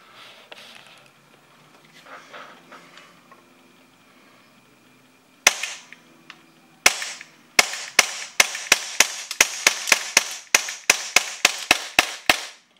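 A Glock replica pistol with an upgraded internal hammer fires a string of sharp, snappy shots at close range, starting with single reports then settling into a quick, fairly even rhythm of about a dozen cracks.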